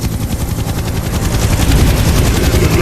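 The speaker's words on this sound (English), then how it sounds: "Zahe, do you hear some helicopters?" Helicopters fly overhead with a loud, continuous rapid rotor chop that thickens and grows slightly louder over the few seconds, with no voices.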